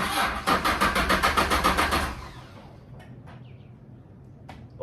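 A car engine cranks with a rapid rhythmic churning of the starter, then catches and settles into a quieter idle, with a few light clicks and knocks afterward and no talking.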